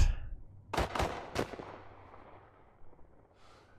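Gunfire in the video game The Last of Us Part I: three sharp, loud shots in quick succession, each with a decaying echo, trailing into low ambient rumble and a faint noise at the end.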